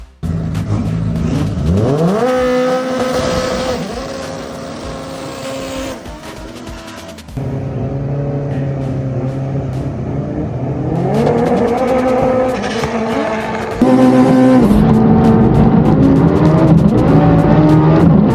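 A 9-second Honda Civic drag car at a UK Doorslammers drag racing event launches hard off the line, its engine screaming up through the revs with gear changes, loud and close, with no talk over it.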